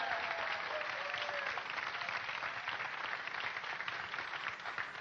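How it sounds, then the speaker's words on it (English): Studio audience applause on the Nickelodeon show What Would You Do?: a steady, even wash of clapping from a crowd, continuous from start to finish with a slightly muffled, tape-like tone. "Give them a round of applause"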